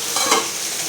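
Chicken cooks in a pan with a close, steady sizzle and a brief swell of crackling in the middle.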